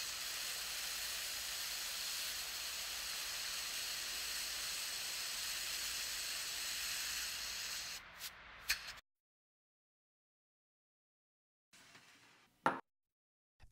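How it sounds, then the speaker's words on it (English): Suction drawing off supernatant seawater from settled sea urchin eggs in a lab, a steady loud hiss lasting about eight seconds before it cuts off, then a brief faint hiss and a sharp click near the end. "Use suction to remove the supernatant seawater from the settled eggs"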